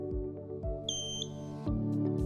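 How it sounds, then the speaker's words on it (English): A short pair of high electronic beeps from an outdoor motorized shade's motor head rings out over a steady low motor hum, close and clear. "press and hold the setting button in the motor head until you see the shade jog and beep once"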